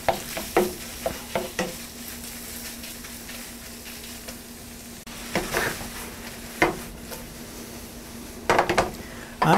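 Crepe batter for shrimp crepes cooking in a pan over medium-high heat, a soft steady sizzle under sharp clinks and scrapes of a utensil against the pan, close and fairly loud.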